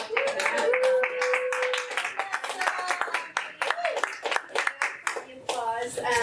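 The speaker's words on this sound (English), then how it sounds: "Applause." Hands clap at a meeting as a presenter comes up, with sharp claps scattered throughout while several voices talk over them nearby.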